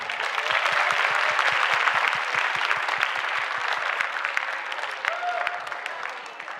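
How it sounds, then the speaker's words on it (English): An audience at a school musical showcase applauds steadily, with dense clapping that holds strong for several seconds and then gradually thins out and fades. "So just give a round of applause for Kensington also."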